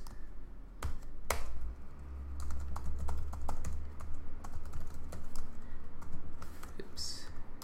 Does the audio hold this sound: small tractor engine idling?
no